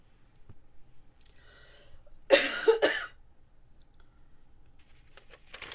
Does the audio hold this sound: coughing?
yes